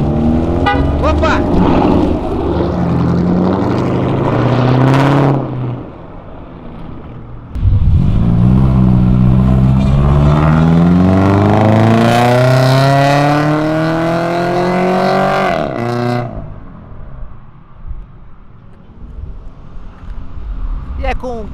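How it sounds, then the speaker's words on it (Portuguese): A Camaro, a BMW Z4 and a Subaru leave a car event on a wet, oily road, engines revving loudly and rising in pitch as they pull away one after another, close by, with a person talking over the noise. "um Subaru, roncos maravilhosos, totalmente distinto, um carro alemão, um carro japonês, um carro americano"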